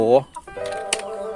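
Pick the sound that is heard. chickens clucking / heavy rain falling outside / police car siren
chickens clucking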